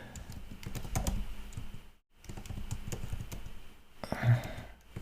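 Steady computer keyboard typing, close and fairly loud, with dense clicking keystrokes running throughout, a brief pause near the middle and a heavier burst of keys near the end.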